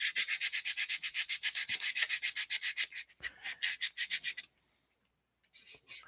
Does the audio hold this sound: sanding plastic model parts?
yes